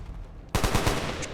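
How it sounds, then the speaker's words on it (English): Weapons fire in XCOM 2, a sudden loud burst of rapid automatic shots starting after a brief quiet lead-in, close and alone without talk. "Weapons fire."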